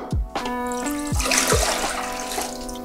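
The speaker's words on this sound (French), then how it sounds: "On va mettre 1 litre d'eau à bouillir." About a litre of water pouring into a cooking pot for boiling, a close splashing stream whose ringing tone shifts as the pot fills, with a few brief knocks.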